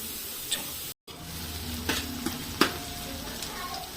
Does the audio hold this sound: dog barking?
no